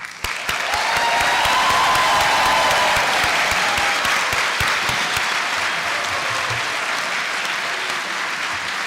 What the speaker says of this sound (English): I'd appreciate it if you could give yourselves a big cheer